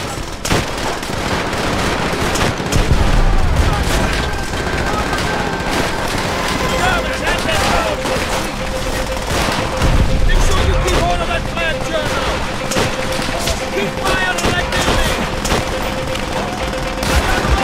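Battle gunfire in Call of Duty: World at War during the fall of Berlin. Dense machine-gun and rifle fire keeps crackling under voices and a steady rumble, with louder swells every few seconds.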